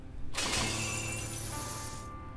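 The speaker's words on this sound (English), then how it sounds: "The chains are broken." A sudden bright shattering burst of chains breaking in a visual novel game erupts and rings out with a long shimmering decay, clearly a dramatic sound effect.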